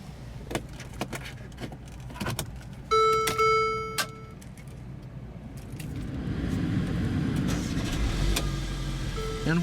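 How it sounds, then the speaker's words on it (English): 2016 Mercedes-Benz GLA250 with a 2-liter turbo 4-cylinder: door clicks and a chime ring out first, then the engine starts and settles into a low, steady idle hum. "what you're hearing there is a 2-liter turbo 4-cylinder"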